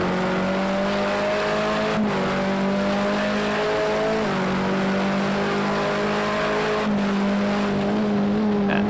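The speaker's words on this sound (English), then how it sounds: "the sound of that BMW is fantastic" BMW race car in the Project Cars 2 racing game, its engine holding a steady, loud, buzzing drone that shifts pitch through gear changes and throttle lifts over several seconds, with faint tyre noise and no talking.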